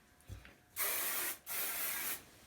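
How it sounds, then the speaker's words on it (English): Hairspray sprayed onto hair in two long, close hissing bursts, each lasting most of a second, separated by a brief pause and preceded by faint handling clicks. "Like to spray everything now."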